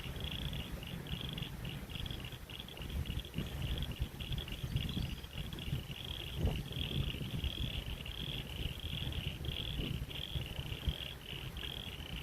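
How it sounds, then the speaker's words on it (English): Night chorus along the River Torrens, a steady shrill trill of frogs or insects repeating in a continuous band over a low rumbling background, even and unbroken throughout with no talk. "It's a frog symphony"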